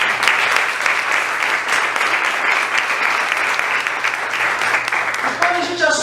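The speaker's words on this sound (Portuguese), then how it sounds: "Eu quero uma salva de palmas para ela" A group applauds a participant in a public speaking class, with continuous, lively clapping throughout and a voice speaking briefly near the end.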